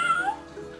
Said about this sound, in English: Three kittens with such fluffy fur. Strut and stretch, meow and purr.